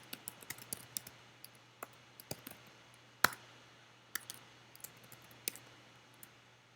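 Faint computer keyboard typing as a name is entered, scattered light clicks at an irregular pace with one sharper tap, alone in a quiet room.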